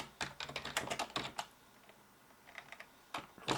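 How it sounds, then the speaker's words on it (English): Quick bursts of keystrokes on a computer keyboard, a fast clattering run followed by a short pause and then a few more scattered taps, close and crisp with no voices. "My typing's excellent."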